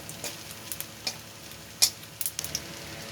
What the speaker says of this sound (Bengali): দিয়ে কিছুক্ষণ ভেজে নেব